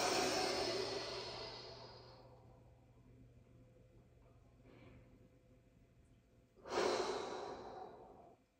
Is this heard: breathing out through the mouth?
yes